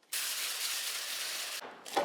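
A cooking spray can hisses steadily onto a pan for fudge, close and loud for about a second and a half, followed by one more short spurt.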